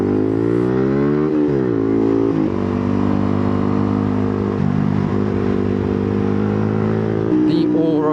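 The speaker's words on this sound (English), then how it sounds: "this bike just gets to 80 so well in 5th gear" A Rieju RS3 motorcycle accelerates hard in 5th gear toward 80, its close engine note rising steadily with strong wind rush and a brief dip mid-pull, heard from the rider's position.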